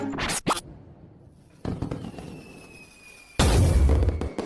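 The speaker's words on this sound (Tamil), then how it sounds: "இங்க பட்டாசு வெடிக்காதீங்க" Diwali firecrackers go off in three sharp, loud bursts spread over a few seconds, with a thin rising whistle trailing through the quieter stretch between blasts.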